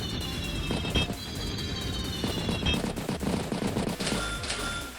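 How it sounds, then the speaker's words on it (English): Rapid machine-gun bursts in the Advance Wars by Web game, fired at Neo tanks, rattling loudly and continuously across the whole stretch with sharper accented shots and a rushing, noisy backdrop. "Even taking time to take multiple machine gun shots against the Neo tanks."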